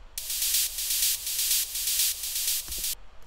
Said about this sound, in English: This is basically just a white noise.